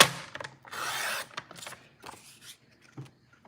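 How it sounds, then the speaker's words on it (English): A paper trimmer slicing cardstock for a handmade card, a close, dry rasping cut lasting about half a second followed by lighter scraping and clicking handling sounds in a quiet room. "line that up in my trimmer right on the edge"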